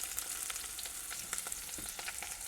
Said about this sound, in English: Next we add our prawn shells to the olive oil until we get these shells nice and pink.